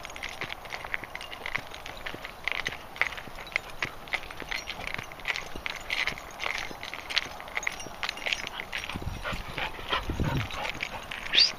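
Several dogs out on a group pack walk in Newport, with scattered yips, whimpers and rustling footsteps throughout under steady outdoor background noise, moderately faint.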